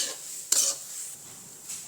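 Spoon scraping and stirring a roasted nut filling for ghughara in a pan on a switched-off stove, a few soft clinks and scrapes with one sharper stroke partway through, close and fairly quiet.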